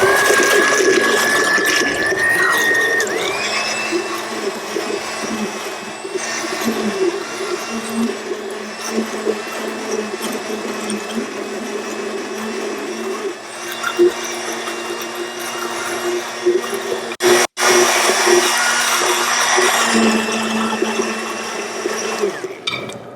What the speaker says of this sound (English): we're going to go ahead with our immersion blender and just whip this up a little